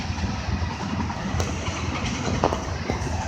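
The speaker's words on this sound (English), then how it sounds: "Is that a train?" A CSX freight train rolls by steadily and close in Erie, Pennsylvania, a dense continuous rumble and rattle of rail cars with occasional sharp clicks of wheels over joints, no voices over it.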